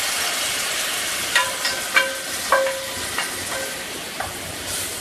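Wine sauce steady-sizzling in a hot pan after a seared steak, a constant hiss with a few soft clinks and scrapes of moving it over, close and alone.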